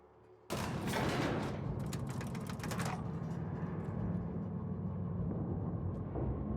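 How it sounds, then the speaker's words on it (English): An elevator in The Outer Worlds starts moving with a sudden loud mechanical clatter and rattling, then settles into a steady low rumbling hum that carries on to the end, with no speech. "So let us see where this elevator will take us."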